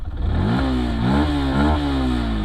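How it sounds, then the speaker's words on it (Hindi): A Yamaha FZS V3 motorcycle engine revs hard close up, climbing in pitch in repeated rising sweeps over a loud steady idle rumble, with no talking. "पूरी 9000 RPM तक रेव होती है।"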